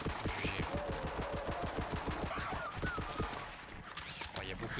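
Automatic gunfire in Borderlands 3 pounds out as a fast, evenly spaced string of shots for about three seconds, mixed with game sound effects and a voice speaking over it.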